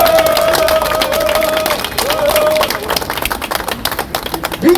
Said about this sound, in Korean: 우리 애국동님들 큰 박수를 해주십시오